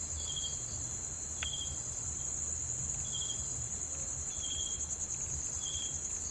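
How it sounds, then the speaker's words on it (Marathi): Crickets chirping outdoors at night near a village, a steady high trill with a second cricket's short pulsed chirps repeating every second or so over a low background hum. "रातकिड्यांचा आवाज येतो आहे का?"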